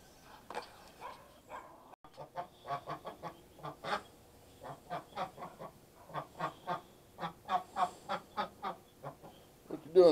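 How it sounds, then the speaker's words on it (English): A series of short, nasal quacks repeat in an irregular rhythm, fairly close and moderately soft, with a few quiet pauses between bursts. "I'm gonna go check on the ducks"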